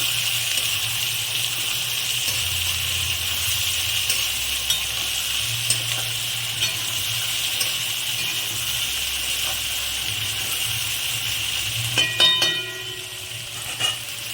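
Onion frying in a pan for mutton kosha, a continuous loud sizzle and hiss with occasional clinks of stirring near the end.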